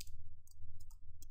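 A computer keyboard clicks as a queue name is typed, a few sparse, quick key taps close up over a low steady hum.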